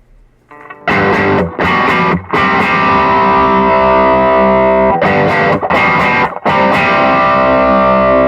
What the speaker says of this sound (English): We'll boost the treble frequency so you can see how the overdrive reacts to that.